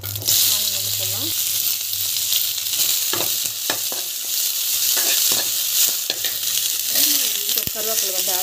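Onions frying in oil in a pan, a loud, constant close sizzle with occasional stirring scrapes and clinks over it.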